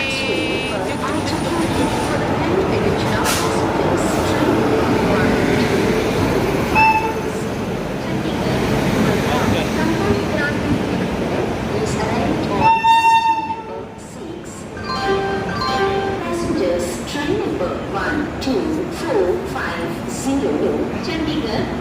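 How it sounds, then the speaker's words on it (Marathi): The Chandigarh–Madgaon Sampark Kranti Express pulls into platform 6 of a busy station, a continuous rumble of passing coaches with a horn blast midway, squealing brakes and clanks as it slows, beneath steady crowd chatter and voices. "आली ट्रेन."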